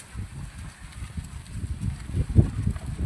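Irregular hoof clops of bullocks walking on rain-wet ground, soft and close, with a heavier thud near the end.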